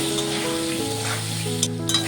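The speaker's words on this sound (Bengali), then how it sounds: "আলুটাকে আমি একটু ভেজে নেব" Potato pieces frying in oil with a little salt and turmeric in a Bengali cauliflower and potato dish, a loud, close, continuous sizzle with stirring scrapes toward the end.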